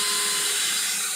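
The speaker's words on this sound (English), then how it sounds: "I have my trusty little drill here." A small cordless drill unscrews a Peplink HD2 Dome router casing, giving a steady, high, close whir that runs unbroken for the whole moment with no talk.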